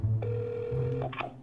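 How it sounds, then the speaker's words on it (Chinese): A single telephone ring tone sounds while a call is placed to a shop, a steady tone held for most of a second, followed by a brief burst of higher tones near the end. "好，来，你现在打电话给他"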